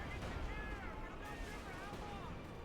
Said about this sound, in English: We got artillery strike called in on the Schwer planted quarters